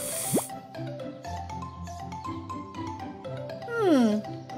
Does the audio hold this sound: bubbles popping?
yes